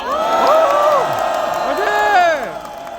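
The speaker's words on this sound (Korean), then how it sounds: "이재명 대표님께 힘내시라고 다시 한번 큰 박수 부탁드립니다." A large crowd at a Democratic Party political rally applauds and cheers loudly, with whoops and shouted voices rising over steady clapping before it begins to fade.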